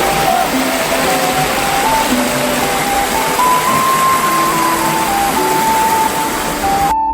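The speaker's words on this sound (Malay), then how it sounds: "Bunyi air deruan air." A river rushing near the Jeram Tengkek waterfall at Batu Kikir in Negeri Sembilan, a loud, steady broadband roar of flowing water with faint tonal hums drifting through it.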